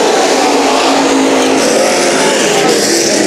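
IMCA stock cars racing on the Bakersfield track, engines roaring loud and steady as the field comes around to the white flag, a dense continuous drone with no talk.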